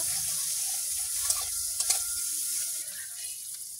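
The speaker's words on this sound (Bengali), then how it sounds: "ডিমগুলো দেবো, একটু লবণ দেবো, একটু হলুদ দেবো, ডিমটা একটু ভেজে নেব।" Eggs seasoned with salt and turmeric fry in a hot pan with a steady, fairly loud sizzle and a few sharp spatters, continuous and close, without any talking.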